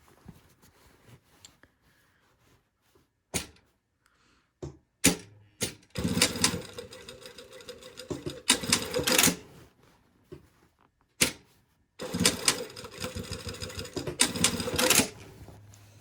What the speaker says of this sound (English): There's my top stitching for my side seam.